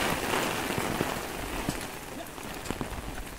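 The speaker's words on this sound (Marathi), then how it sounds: "बघा पावसाची काय धमाल ती." Heavy monsoon rain pours onto rice paddies in the Konkan countryside near Rajapur, a dense steady hiss with scattered close drip taps throughout and no talk.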